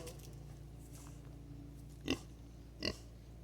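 A Kunekune pig on a farm gives two short, soft grunts about a second apart over a steady low background hum.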